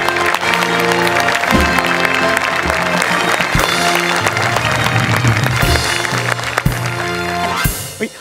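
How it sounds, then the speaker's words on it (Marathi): A studio audience at a Marathi comedy show claps loudly and steadily to welcome a guest, dense continuous applause with music underneath that tapers off near the end. "जोरदार टाळी त्यांचं स्वागत करूया"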